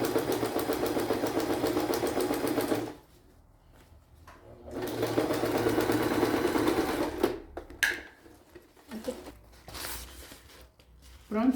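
Sewing machine stitching along the edge of a fabric pouch, two sustained bursts of rapid close mechanical whirring with a pause between, followed by quieter handling sounds.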